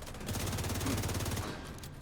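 Rapid rifle gunfire in a video game, a dense, close burst of shots lasting about a second and a half before trailing off.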